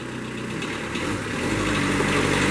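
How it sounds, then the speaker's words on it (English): A Kubota engine on a 2005 Moffett M4000E truck-mounted forklift starts and settles into a steady, close, rumbling diesel idle that grows slightly louder. "Hear that Kubota come to life."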